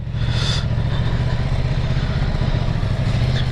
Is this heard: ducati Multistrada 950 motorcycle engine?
yes